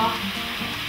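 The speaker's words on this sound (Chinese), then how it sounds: "现在来把牛肉放进去，把大蒜和" Beef sizzles as it is stir-fried with garlic and onion in a hot pan, a brief, close, steady crackle and hiss.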